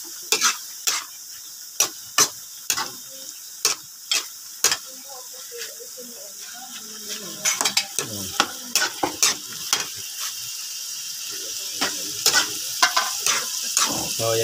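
Bupis is stir-fried in a pan in a canteen kitchen. A spatula scrapes and clacks against the pan in sharp, irregular strokes, close and loud, over a low sizzle.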